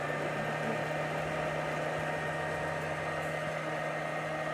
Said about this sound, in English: you can put it on the blender and start to blend it